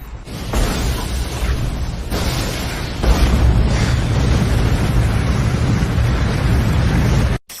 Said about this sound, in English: Blow it up.